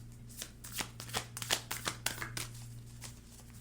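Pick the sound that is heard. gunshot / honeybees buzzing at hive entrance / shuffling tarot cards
shuffling tarot cards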